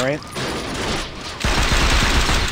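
Rapid gunfire bursts and explosions in the video game Saints Row 2 rattle loudly in a dense crackling stream, with a voice briefly heard at the start.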